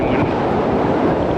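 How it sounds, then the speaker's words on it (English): Loud, steady rumbling wind buffeting the microphone outdoors in Baja California, Mexico, dense and continuous throughout. "now it's getting windy"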